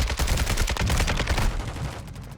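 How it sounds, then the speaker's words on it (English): Rapid gunfire in a multiplayer shooter game: a dense run of loud, close shots cracking in quick succession for about a second and a half, then thinning into a fading rumble. "Shoot him! I got a sniper rifle."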